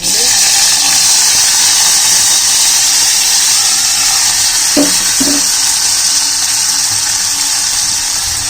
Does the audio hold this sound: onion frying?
yes